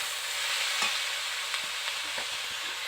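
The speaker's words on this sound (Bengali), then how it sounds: "আমি একটু খুব ভালো করে শাকটাকে নাড়াচাড়া করে দিচ্ছি।" Greens, a mix of leafy saag, being stirred as they dry-fry in a pan with oil: a steady soft sizzle with a few scraping spoon strokes, close and continuous, no talk.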